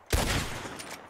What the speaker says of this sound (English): Whoever shoots the most bottles wins.